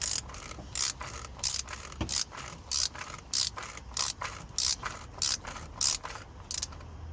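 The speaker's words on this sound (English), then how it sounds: "then use the ratchet" A ratchet tightens an oil filter on a Vauxhall Opel Corsa during a service, giving a dozen or so sharp, evenly spaced bursts of clicking pawl sound, close and loud, with no talk.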